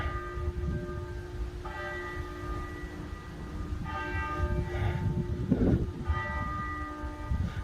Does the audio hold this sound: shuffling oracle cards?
no